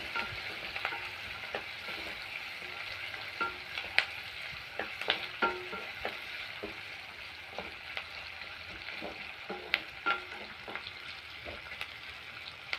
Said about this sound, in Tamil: ரெண்டு நிமிஷம் வதங்கட்டும்